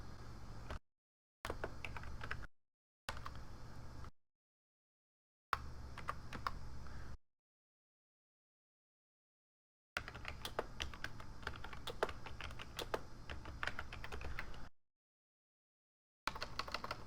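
Bursts of rapid typing on a computer keyboard, with dense clicking keystrokes broken by stretches of silence, close and fairly quiet.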